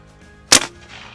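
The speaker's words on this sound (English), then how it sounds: "Let's see what happens shooting the charcoal out of there." An air-powered shotgun firing a load of charcoal: a single sharp, loud blast close by, cutting off quickly into a brief faint rustle.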